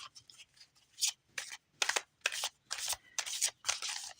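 A deck of oracle cards is shuffled by hand, a series of crisp riffling, flapping bursts in an uneven rhythm, close and fairly quiet with no talking.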